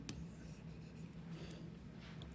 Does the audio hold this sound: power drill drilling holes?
no